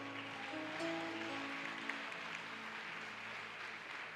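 A church congregation applauds during a worship service, a steady wash of clapping from many hands that holds at an even, moderate level throughout.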